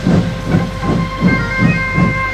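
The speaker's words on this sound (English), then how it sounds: "So Murdoch puffed up towards a set of points." Steam locomotive puffing along at a steady rhythm, about six chuffs in two seconds, with a continuous hiss of steam and a faint whistle-like tone running underneath.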